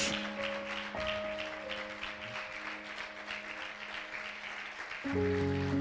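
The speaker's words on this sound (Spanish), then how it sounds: "Damos un aplauso bien fuerte a la palabra de Dios" Church congregation clapping in a steady broadband wash for several seconds, with sustained organ or keyboard tones running underneath and swelling louder near the end.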